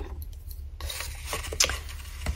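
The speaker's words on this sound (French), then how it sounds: "Donc on marque bien nos plis" Paper card folds being scored and creased with a paper cutter, giving short dry rubbing and scraping strokes up close, with a couple of sharper scratches.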